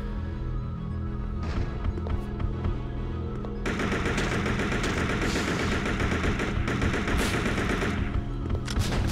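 Sustained automatic gunfire from the game Resident Evil Survivor 2 Code: Veronica, a loud, continuous rattle of rapid shots that thickens partway through over a low game soundtrack.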